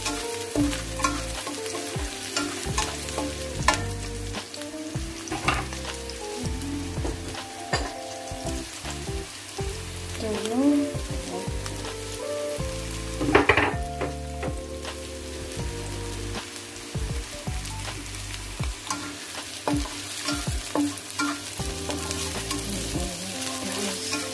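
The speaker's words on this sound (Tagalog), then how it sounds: "cooking pasta, vegetarian pasta" Vegetarian pasta frying and being stirred in a pan, with a steady close sizzle and repeated stirring scrapes throughout, and no voices.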